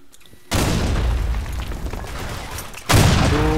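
A grenade blast in the competitive shooter Blackshot erupts as a loud, broadband boom that sustains for over two seconds, followed by a second sharp explosive burst near the end.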